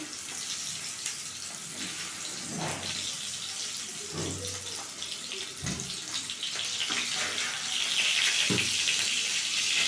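Battered bitter gourd frying in hot oil, a continuous close sizzle and crackle with a few soft clunks and knocks from utensils over the top.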